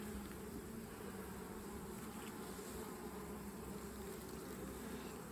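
Carniolan honey bees fill an open hive with a dense, steady buzz, a close and continuous hum that holds evenly throughout without pause.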